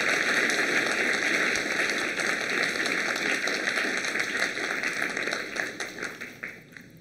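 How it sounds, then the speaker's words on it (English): An audience at a physics department welcome event applauds for Sarah with a dense, sustained clapping that fills the room, then gradually thins into scattered claps as it fades out. "Let's have a round of applause for Sarah."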